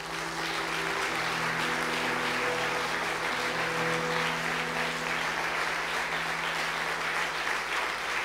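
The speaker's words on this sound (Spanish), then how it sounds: "Denle un aplauso al Señor" Church congregation clapping after a call to applaud the Lord, dense continuous applause that stays steady and fairly loud the whole time, with faint organ-like tones underneath.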